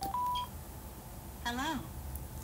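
A Cardo/Sena 10C motorcycle helmet headset powers on: a short electronic beep, then a quick rising-and-falling chime of tones, heard closely against a faint background hiss.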